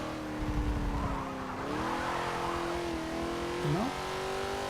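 A stock, decently powered truck drives a track in Forza 7, its engine droning steadily, dipping between gear changes and then revving back up, with a brief tire squeal.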